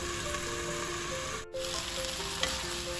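Chicken wings added to a pot of sautéed mung beans give a steady sizzling, frying sound with stirring, and one brief dropout partway through.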